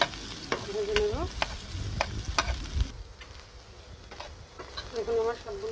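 Boiled jackfruit seeds frying in oil with intermittent stirring scrapes in the pan, a soft steady sizzle underneath and a brief quieter stretch midway.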